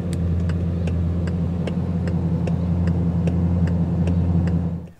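Hazard lights on a 2017 Bugatti Chiron ticking in a steady, regular rhythm, crisp clicks repeating about every 0.8 seconds over a constant low idling engine hum.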